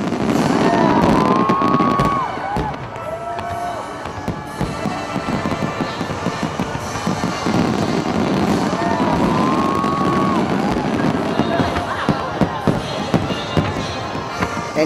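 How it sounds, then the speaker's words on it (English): Firecrackers and fireworks go off at a Chinese New Year celebration, with dense crackling bursts and bangs plus whistling rockets rising through the noise, loud and continuous over a murmuring crowd. "People are celebrating with the firecracker in Chinese New Year."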